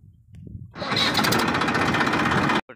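A farm tractor engine cranks briefly and catches, then settles into a loud, steady rumbling run close by before cutting off abruptly, with no voices.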